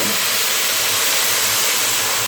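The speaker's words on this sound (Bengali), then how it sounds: "এবারে গ্যাসের ফ্লেমটা বাড়িয়ে দিয়ে যে জলটা আমি মেপে গরম করে রেখেছিলাম সেই জলটা দিয়ে দেব" Hot water poured into a pot of fried rice over a raised gas flame for white pulao, a loud continuous sizzling hiss that holds steady and then cuts off abruptly.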